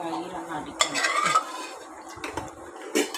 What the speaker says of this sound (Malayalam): ഇനി ഇറച്ചിയും കൂടിയിട്ട് നല്ലപോലെ വഴറ്റി കൊടുക്കണം